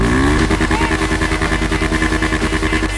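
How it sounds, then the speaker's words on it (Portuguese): Loud motorcycle engine revving in GTA V, with a steady harmonic drone that pulses in quick rhythm throughout, close and dominant with no talk over it. "olha o barulho dessa moto aqui"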